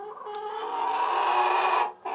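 A young pullet hen ready to lay her first egg clucks softly and continuously while building a nest of bamboo leaves, close by and alone with a brief pause near the end.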